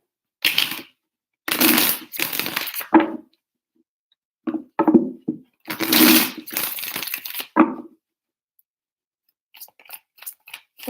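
Tarot cards are shuffled in three close, crisp bursts of riffling and flicking, each a second or two long with quiet gaps between, followed by a few faint taps.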